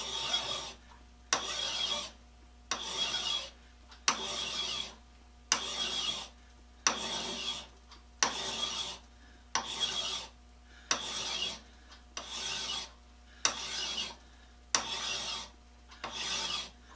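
A hand file rasps across a piece of soapstone in steady strokes, about a dozen even back-and-forth passes with brief pauses between each, close and clear with no talking.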